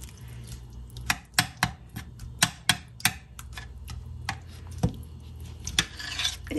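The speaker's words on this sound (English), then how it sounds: "Granny's got it all stirred up in the pot" Cream style corn stirred in a pot, a spoon scraping and knocking against the sides in a steady run of sharp ticks and rubs, fairly close and clear with no talk.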